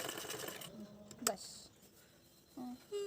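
A domestic sewing machine stitches a mekhela in short bursts, a buzzing whir that starts and stops, with a soft click between runs and someone speaking over parts of it.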